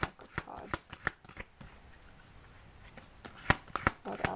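Tarot cards being shuffled in a pack, giving a run of close, crisp riffling flicks and soft slaps in an uneven rhythm, with short quieter pauses between bursts.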